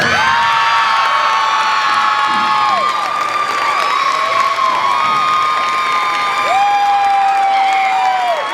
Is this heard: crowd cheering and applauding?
yes